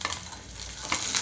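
Onions and curry leaves fry in a pan while being stirred, giving a steady close sizzle broken by short scraping strokes of the spoon, with no talking.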